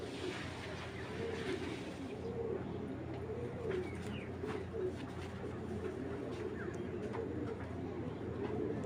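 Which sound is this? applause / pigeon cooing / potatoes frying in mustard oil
pigeon cooing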